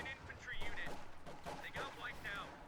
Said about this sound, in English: Enough concentrated machine gun fire can kill it.